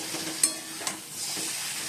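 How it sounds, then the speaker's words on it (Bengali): Cauliflower florets and potato pieces sauté with spices in a pan, giving a steady close sizzle broken by a couple of sharp scrapes as they are stirred. "আর এদিকে ফুলকপি আলুগুলো দিয়ে দিয়েছি এখন কষানো হচ্ছে"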